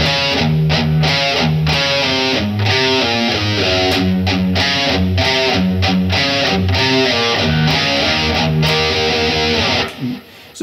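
Distorted electric guitar plays a verse riff slowly, choppy palm-muted chugs and power chords with short gaps, loud and close, alone without voices.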